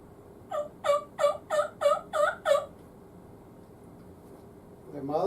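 Seven quick, evenly spaced turkey gobbles come from a latex game call imitating the bird, loud and close, followed by a pause and then a voice starting to speak.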